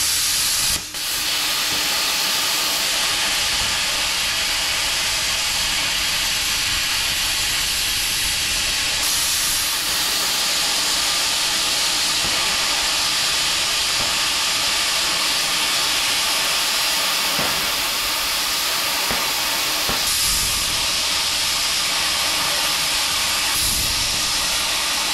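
A Bestarc plasma cutter at 50 amps slices through 11 mm metal with a loud, unbroken hiss of rushing air that holds steady for the whole stretch, without talk.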